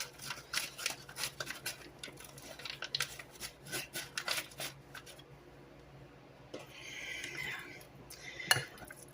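A utensil scrapes and clinks in a bowl while bean dip is mixed for a seven-layer taco dip, giving irregular, fairly close stirring strokes that pause before a final knock.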